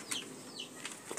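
Caged pigeons flap their wings in several quick, soft fluttering bursts, close by and fairly faint against quiet background noise.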